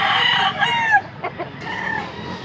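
A two-year-old rooster lets out a fading crow close by, followed by a few short clucks over light background noise.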